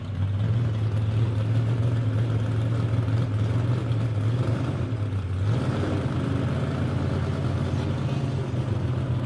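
A drag racing car revs at a qualifying event, a loud, steady engine drone that holds, dips briefly and then climbs to a higher held pitch, with no voices over it.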